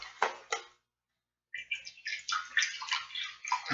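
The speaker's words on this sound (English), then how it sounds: "I'll do some vegetable broth." Vegetable broth poured into a cup for making seitan, a close splashing, trickling pour in two short bursts, then a longer steady stream after a brief pause.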